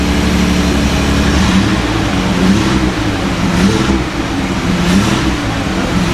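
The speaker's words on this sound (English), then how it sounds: "Try revving it up." A Datsun 280Z barn find, off the road for 18 years and smoking heavily, idles loudly and revs up in repeated swells, a close, rough engine roar filling the scene.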